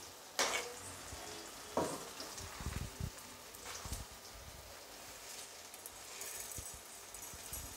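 Onions sautéing in a pan for a stingray fish curry, with a steady low sizzle and a few sharp spoon or pan knocks over about eight seconds, no voices.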